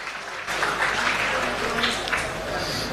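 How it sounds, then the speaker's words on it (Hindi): An audience at a Hindi comedy-poetry gathering in a hotel breaks into applause welcoming a humorous poet, a burst of many hands clapping that starts abruptly and holds steady, with a voice speaking over it. "तालियों से उनका इस्तकबाल करें जनाबे सर्वेश अस्थाना"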